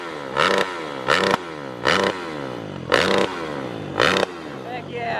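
A 2021 Kawasaki KX450X dirt bike fitted with an FMF 4.1 RCT slip-on exhaust gets five sharp, evenly spaced throttle blips about a second apart, each a loud raspy rev that drops quickly back to a burbling idle, recorded up close.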